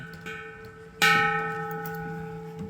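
A temple bell at a Buddhist temple in Mongolia rings to open a meditation session. A softer tone comes first, then one loud strike whose rich, sustained ringing slowly decays.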